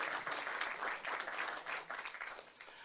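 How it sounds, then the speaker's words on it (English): A fairly faint but continuous patter of audience applause rises and falls for a few seconds at an agri-business panel event, with no talking over it. "we can give them a round of applause"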